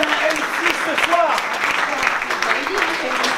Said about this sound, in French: on peut applaudir Charlotte